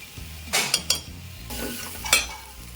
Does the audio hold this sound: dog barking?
no